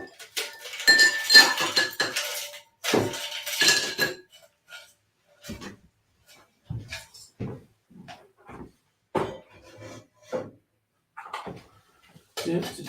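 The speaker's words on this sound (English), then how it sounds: "Alright, now adding some ice. Stir this sucker." Ice dropped into a glass of red blood orange drink and stirred, giving bursts of clinking and rattling cubes followed by scattered lighter clinks, close and fairly loud.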